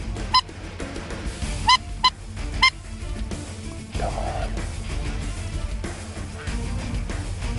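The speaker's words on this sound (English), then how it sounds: "There's a lot of geese flying around" Snow geese honk in a few short, sharp bursts early on, fairly distant, in flight, over a constant outdoor rumble of wind.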